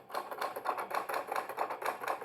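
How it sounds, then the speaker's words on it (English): Quick, faint clacking of typewriter keys struck in an uneven rapid run, slightly distant and alone. "Someone, somewhere was typing on a typewriter."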